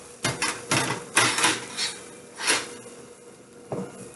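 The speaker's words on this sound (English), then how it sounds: "So here we are, continuing to stir our rice." Risotto rice being stirred in a pan with butter melting, a series of soft scraping and clinking strokes of spoon against pan, close and moderately loud, irregular bursts with short pauses between.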